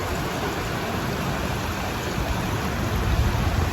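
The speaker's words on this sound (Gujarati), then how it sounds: "કેટલો બધો વરસાદ જાય છે" Heavy monsoon rain in a village beside a flooding river pours steadily, a dense even hiss with no pauses that grows slightly louder toward the end.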